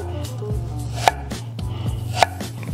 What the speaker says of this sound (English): just cutting them and getting them into cubes like this